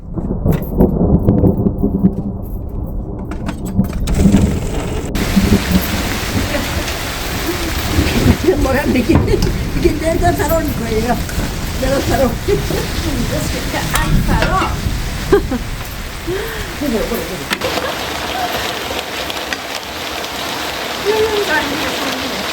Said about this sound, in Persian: به چه بارون خوبی گرفته.